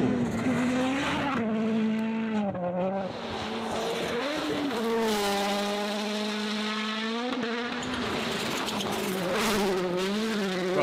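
Rally cars race past, engines revving high and shifting pitch in long rising and falling sweeps while tires squeal and skid, loud and close.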